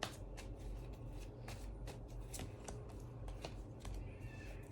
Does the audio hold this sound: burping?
no